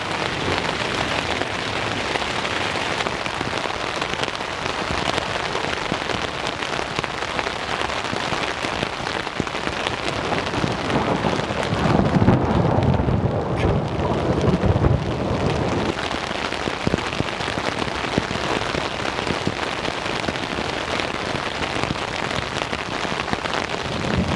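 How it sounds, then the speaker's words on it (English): Heavy rain pours steadily on a surface throughout at a camping spot in the Ponca Wilderness, with a low rumble of thunder swelling in the middle before fading back under the downpour. "I can't hear anything but the rain and the thunder."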